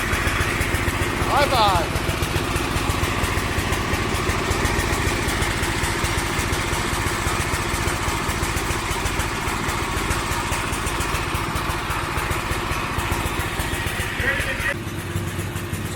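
Small engine of a homemade go-kart built from a riding mower idling steadily and close by, a constant throbbing drone with a brief high chirp early on, as a person speaks briefly over it.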